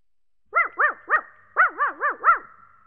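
A puppy barking, up close and alone: seven high, yappy barks, three in a quick run, a short pause, then four more.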